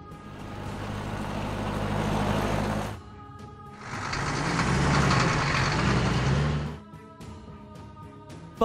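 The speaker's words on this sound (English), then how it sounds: "Police car." A police car engine rumbles loudly in two sustained broad bursts, like passing or revving, separated by a brief quieter gap, ending with a faint idle.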